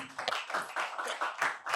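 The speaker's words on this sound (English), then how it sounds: "Give a round of applause to Techno, please." Audience applause rings out in a room after an introduction at a phone launch masterclass, a steady dense burst of clapping lasting under two seconds with small rising and falling swells.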